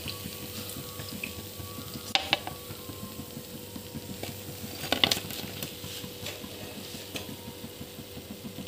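Mixed-vegetable pakoras frying in oil in a village kitchen: a continuous soft sizzle and crackle heard up close, with a few sharp clinks of a utensil against the pan partway through.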